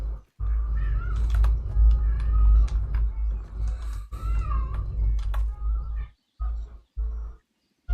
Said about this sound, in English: No, my cat. I thought I heard something making noises at me in the game.